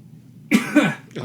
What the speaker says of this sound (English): he just coughed on me